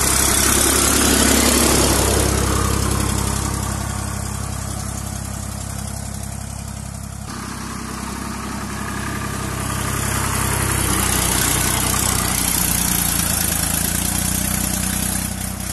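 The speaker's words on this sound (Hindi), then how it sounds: "आप लोग देख रहे हैं ट्रैक्टर चल रहा है दोस्तों, स्वराज 855 थ्री स्टार" A Swaraj 855 FE farm tractor pulling a laser land leveler runs with a loud, steady diesel rumble. Its low engine drone holds close and constant throughout, easing slightly in the middle before swelling again.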